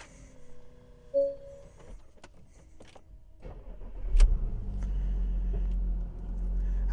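A Porsche Macan Diesel S starts with a short whirring crank, then the engine catches with a burst and settles into a steady, low idle, heard nearby with no talk.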